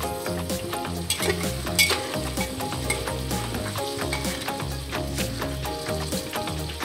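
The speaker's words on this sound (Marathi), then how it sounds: "हे बघा, मस्त फ्राय होतोय।" Oil fries steadily in a pan while the base for dry bombil pulao is prepared, a loud crackling sizzle under repeated rhythmic stirring scrapes, close by, with nobody talking.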